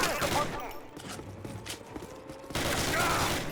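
Rapid rifle and machine-gun fire crackles in a World War II battle in Call of Duty, with dense overlapping shots, a brief lull, then a louder burst of gunfire near the end.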